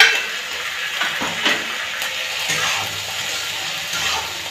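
Banana, onion and chili being stirred together in an oily pan: a spoon scrapes and knocks against the metal in irregular strokes over a continuous close sizzle.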